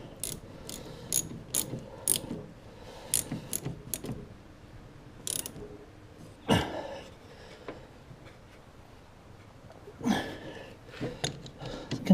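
Ratchet wrench tightening the battery earth cable on a 1972 Triumph Dolomite: close, sharp bursts of ratcheting clicks separated by short pauses and occasional metallic knocks.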